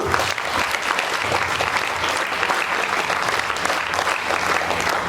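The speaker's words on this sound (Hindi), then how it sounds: "एक बार जोरदार अभिनंदन ताली सुनो" A seated audience at a formal Indian stage event claps loudly and steadily for the full length, a dense unbroken roar of hands with no voices standing out.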